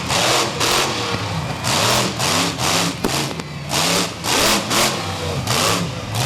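Avenger, a monster truck driven by Jim Kohler, spins donuts across a dirt arena floor, its big engine revving loudly in repeated rising and falling surges.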